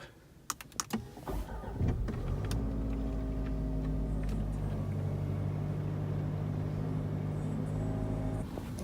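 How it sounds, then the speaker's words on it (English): A 2018 Jaguar XF is started: a few clicks and a starter whirr give way to the engine catching and settling into a steady, close idle hum. "let's start the car up"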